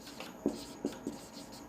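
Chalk or marker writing on a classroom board during a lecture, a few soft taps and scratchy strokes close by in quick uneven rhythm with no talking.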